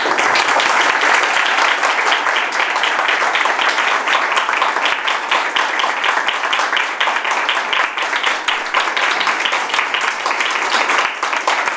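Audience applause after a talk on the fear of dying: loud, dense clapping from a full room, a steady wash of many hands sustained for the whole stretch with no voices breaking through.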